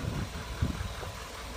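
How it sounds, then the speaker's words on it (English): A Chevrolet 2500 Z71 pickup's Duramax diesel with an Allison transmission idles steadily, a low, even rumble with a slight bump partway through, close by and with no talk. "And this is the Duramax with the Allison transmission."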